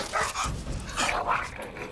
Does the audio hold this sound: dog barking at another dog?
yes